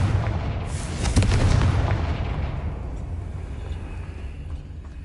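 A Confringo fire spell blast in Hogwarts Legacy erupts in a loud booming burst near the start, then rumbles and fades away over several seconds with no talk.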